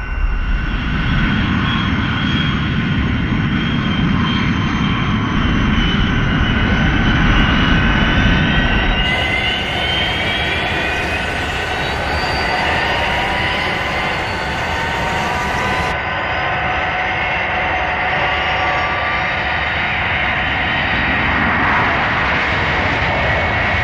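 Fireflash aircraft engine from a Lego Thunderbirds animation roaring steadily and loudly throughout, a continuous dense drone with a brighter high-pitched whine added in the middle stretch.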